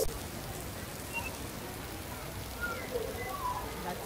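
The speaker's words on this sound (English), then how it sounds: "although it's raining." Steady rain falls near Guruvayur temple in Kerala, a soft continuous patter across the whole span with no talking over it.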